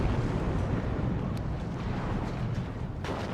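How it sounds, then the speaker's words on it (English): Heavy artillery shells pound a position in WARNO, giving a continuous deep, rumbling roar of blasts that stays loud and thick throughout, with one sharper burst near the end. "Oh man, that artillery is nasty."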